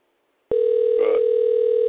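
A telephone on an outgoing call to a radio show starts its ringing tone abruptly after a moment of silence, then holds it as a loud, steady electronic tone with no talk.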